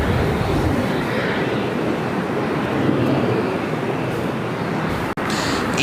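Airliner jet engines roaring during takeoffs at LAX, a broad, sustained rumble of moderate loudness with a brief dropout near the end.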